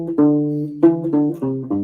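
A U-Bass playing a slow passage of the Westworld theme, five plucked notes with round sustained tones, each ringing on clearly and close in a quiet room.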